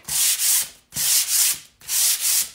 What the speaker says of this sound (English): I'm just going over it real quick, some sandpaper, just like that, not a whole ton